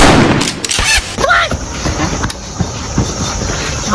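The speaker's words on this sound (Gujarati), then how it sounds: "ગોળી મારી" Gunfire in a Gujarati comedy skit: a few sharp, loud bangs crack out in quick succession, with faint voices mixed in around them.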